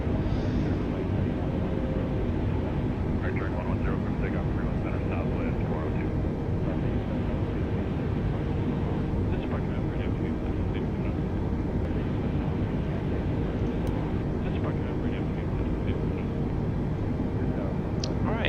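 Airbus A320 airliner engines in a flight simulator game give a steady, continuous roar that holds at an even level throughout, with faint tonal whines and clicks drifting above the rumble.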